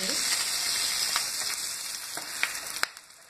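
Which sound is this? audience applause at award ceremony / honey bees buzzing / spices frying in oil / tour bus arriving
spices frying in oil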